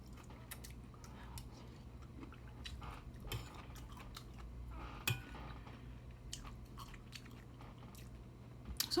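Someone chewing and biting spicy cauliflower close to the mic, soft crunches and mouth sounds with occasional light clinks of cutlery or a dish, fairly quiet throughout.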